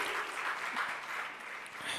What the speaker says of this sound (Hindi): इनका भी जोरदार तालियों से आप स्वागत करेंगे